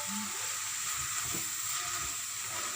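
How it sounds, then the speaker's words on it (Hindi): Chicken seasoned with soy sauce and black pepper sizzles steadily in a hot pan, a continuous close frying hiss with faint stirring scrapes and no talking. "इसको अच्छी तरह फ्राई करेंगे।"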